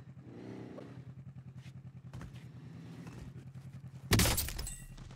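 A bike exploding in a video game: a steady rattling engine drone runs throughout, then a sudden loud crashing burst near the end that quickly fades into debris noise.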